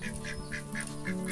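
A marreco royal duck on a simple rural farm quacks in a quick regular series of about six nasal calls, close and clear over a low steady background hum.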